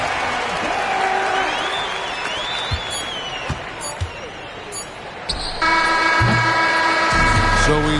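Arena crowd in the NBA 2K26 basketball video game cheering and applauding as Houston wins, a broad wash of noise with sharp ball bounces and squeaks, a commentator talking over it, then a louder horn-like burst near the end.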